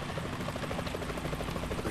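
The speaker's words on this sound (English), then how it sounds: "Is that a chopper I just heard?" Helicopter in Metal Gear Solid 2, a steady rotor chop with a rapid rhythmic thumping over broadband engine roar, loud and continuous throughout.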